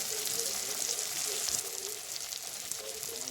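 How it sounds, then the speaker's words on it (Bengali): Grated tomato fries in a pan for a raw papaya paneer curry, giving a soft, steady, fairly quiet sizzling hiss that carries on evenly without talk. "এবারে একটা টমেটো দিলাম, গ্রেট করে রেখেছিলাম, টমেটোটাও দিয়ে দিলাম, টমেটোটা কষিয়ে নেবো"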